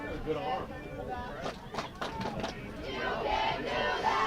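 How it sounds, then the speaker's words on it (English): A high school varsity football crowd at Ogdensburg Free Academy vs Gouverneur cheers and shouts from a distance, its roar swelling louder toward the end over scattered calls. "So this crowd now starting to get back into this game"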